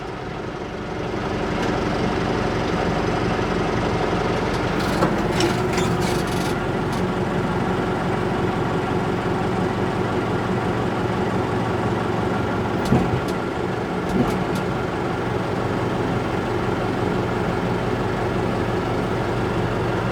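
Moxy articulated dump truck idling steadily at close range with hydraulics raising its tray, a constant loud diesel rumble with a few brief knocks and clunks partway through.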